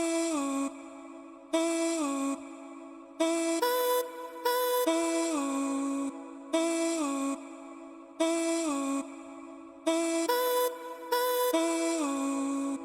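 A chopped vocal sample with reverb in FL Studio for a lo-fi beat repeats in short, looping phrases with brief gaps, sustained tones trailing into soft reverb tails, played alone at moderate volume.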